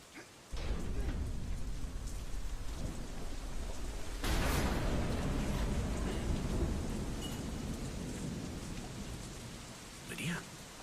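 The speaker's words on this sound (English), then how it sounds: "Damn storm." A thunderstorm in the video game Deadlight brings steady, heavy rain with a loud thunder crack partway through that rolls on under the downpour, and a brief voice near the end.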